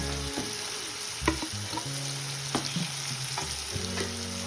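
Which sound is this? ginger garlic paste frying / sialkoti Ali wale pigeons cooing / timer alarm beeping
ginger garlic paste frying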